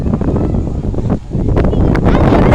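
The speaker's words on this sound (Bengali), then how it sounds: "দেখেন প্রচুর প্রচুর পরিমাণ বাতাস" Strong wind blowing over a rippling river in rural Bangladesh, a loud, continuous low roar buffeting the microphone for the whole stretch, dipping briefly in the middle before surging again.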